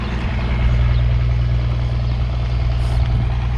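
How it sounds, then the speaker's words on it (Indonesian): A diesel engine driving a water pump runs at a farm in Mecca, a loud, steady low-pitched chugging drone that continues unbroken and close by, with no voices. "Suara diesel di sana."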